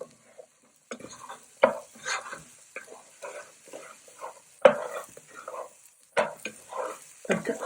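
Prawns with onion, garlic, carrot and baby corn stirred in a pan, irregular scraping and clattering strokes with brief pauses between them and a faint sizzle, close and moderately quiet.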